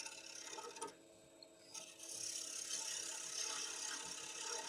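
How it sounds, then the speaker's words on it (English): A small wooden bowl being turned on a lathe gives a continuous scraping, rasping hiss of the tool cutting wood, easing briefly before the cut returns, close and steady. "So I'm doing standard bowl turning here."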